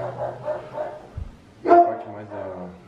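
A dog barks a few times in the background while people talk nearby.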